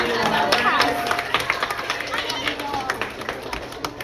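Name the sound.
audience applause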